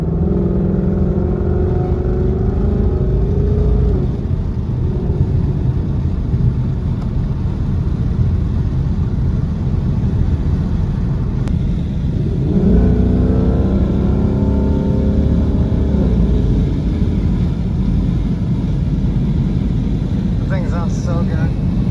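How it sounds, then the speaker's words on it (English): A Ford Mustang with a loud aftermarket exhaust drones loudly and steadily at highway speed, the deep exhaust rising in pitch as it accelerates, then settling back into a constant roar. "Can I just say, this exhaust is nuts."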